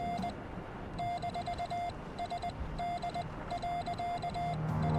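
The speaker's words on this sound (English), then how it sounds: "if you listen closely, you can hear Morse code coming from it" Morse code tapping from a downed plane in a Bigfoot-themed video game: steady, moderately loud electronic beeps in short dot-and-dash bursts with pauses between groups, over a low ambient background.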